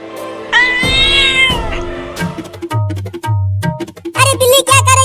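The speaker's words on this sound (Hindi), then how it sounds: "अरे बिल्ली क्या कर रही है?" A cat meows loudly and close in a long, wavering cry, followed by shorter yowls and caterwauling bursts, alongside thumps and scattered voices.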